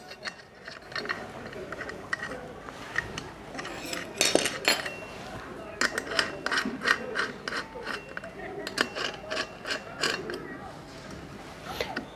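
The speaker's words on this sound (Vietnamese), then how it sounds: "Chúng ta sẽ vặn đều 3 con ốc vào." Three screws being tightened into an aluminum rear disc brake bracket on an electric scooter, heard as repeated metallic clicks, creaks and ratcheting taps in uneven bursts, close up over a steady background.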